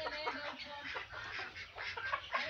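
Chickens being fed sardines cluck and chatter together at close range, with soft, busy calls overlapping across a short stretch.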